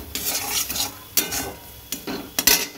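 Potatoes and egg are stirred in a pan with ginger, garlic and cumin, heard as loud, close sizzling frying broken by several sharp scraping strokes of a spoon against the pan, with no talking.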